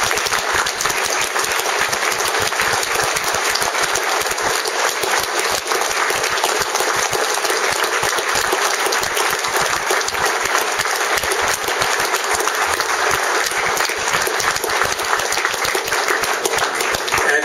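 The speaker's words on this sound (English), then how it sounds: "Please give everybody that volunteered today a hand of applause" A crowd claps for the day's volunteers, producing a sustained, even roar of many hands that holds at a steady loudness for over seventeen seconds with no voices on top.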